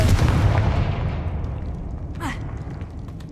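A Confringo spell detonates in the video game Hogwarts Legacy, a deep booming blast that rumbles and slowly fades over a few seconds, with a brief whooshing burst partway through.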